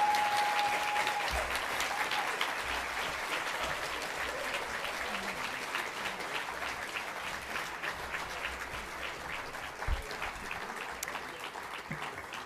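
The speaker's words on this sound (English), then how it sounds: "Big round of applause for Ron" Sustained applause from an audience at a Canadian film editors' awards ceremony, continuous crisp clapping that slowly thins over about twelve seconds.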